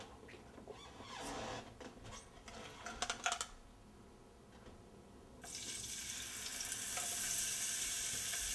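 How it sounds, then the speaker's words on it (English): Climbing perch hits hot oil in a home pan, first with faint clatter and light crackles, then a loud, steady sizzling hiss rises and continues close by. "fry each side of the fish for about 3 to 4 minutes"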